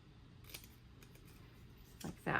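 Scissors snip into scrapbook paper during page crafting, a couple of short, quiet cuts near the start and a louder crisp burst of cutting at the end, close and otherwise calm.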